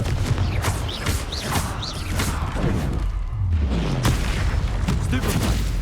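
Loud booming blasts and impacts from a fire-spell explosion in the Hogwarts Legacy game, repeated thuds and crackles over a busy combat soundscape with a voice speaking.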